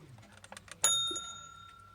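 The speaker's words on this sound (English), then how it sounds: "Here we got this red twin bell alarm clock" A red twin bell alarm clock gives a single short, bright ring that lingers briefly, after a few soft ticks and handling clicks, close and fairly quiet.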